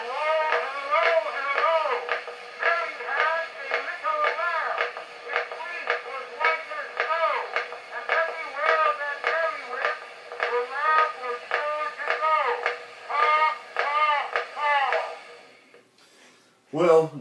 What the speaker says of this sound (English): Let's play it one more time. First recording on copper tape,